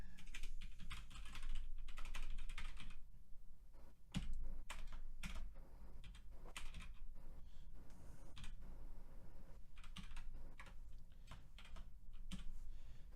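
Fast, steady clatter of keys on a computer keyboard as JavaScript code is typed, close and fairly quiet, with short pauses between bursts and no talking.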